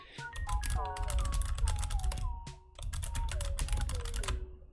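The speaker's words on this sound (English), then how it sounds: "Oh yeah, the typing." Rapid typing clatters on a computer keyboard, dense bursts of key clicks with a short pause midway, close and fairly loud with no voice over it.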